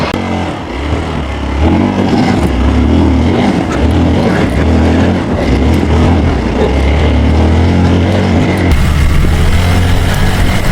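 Motorcycle engine with tyre pressure lowered, labouring up a steep ramp toward Uludağ, a loud steady low drone that holds throughout with shifting pitch and no voice over it.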